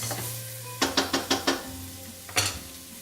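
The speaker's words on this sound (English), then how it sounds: "give those just a little bit of a stir in the olive oil" Ingredients for a fresh pomodoro sauce are stirred in sizzling olive oil: five quick, evenly spaced spoon scrapes against the pan, a pause, then one more, over a faint frying hiss.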